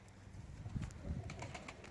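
Young autumn-hatched pigeons out on a roof for the first time, cooing softly and faintly in a short, low burst.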